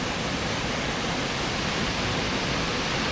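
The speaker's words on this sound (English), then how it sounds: "Yeah, pretty awesome waterfall." Yuanyian Waterfall pours with a dense, loud, continuous roar of rushing water, steady and unbroken.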